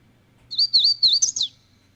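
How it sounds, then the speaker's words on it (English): A hooded warbler's song played from a recording: a clear, high whistled phrase of several slurred notes lasting about a second, loud and close over a faint low hum, with no talking. "Hooded warbler."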